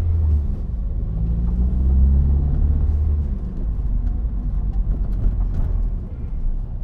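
A car driving along a road toward Abergele, a steady low engine rumble with a gear-like rising whine early on and constant road and tyre noise, heard from inside the vehicle, with no talking.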